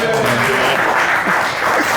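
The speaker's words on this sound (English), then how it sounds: "You guys can applaud." Applause from a television studio audience greets an arriving guest, a dense, continuous wash of clapping close by with faint voices mixed in under it.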